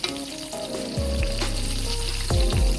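Vegan fried chicken pieces sizzle steadily in hot oil, a close, continuous crackle and hiss that swells briefly as pieces are turned, with a few soft clinks of a utensil.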